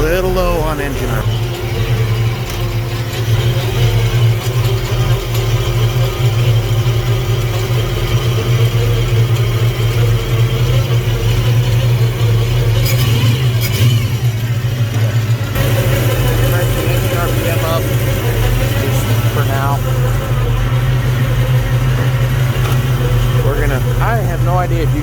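A 1966 Ford Mustang idles steadily after a cold start, a loud, close, low rumble that holds throughout with slight wavering, while someone talks over it at times.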